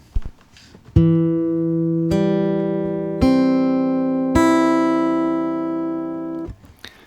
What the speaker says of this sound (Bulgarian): втори пръст на четвърта струна, втори праг, тона ми,